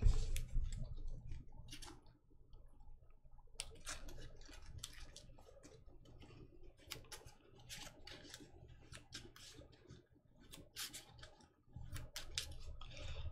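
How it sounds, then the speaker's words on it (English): Arkham Horror card game cards being shuffled back into a deck, a quiet close-up series of crisp clicks and riffling snaps in irregular bursts, with no talking. "shuffle all these back in."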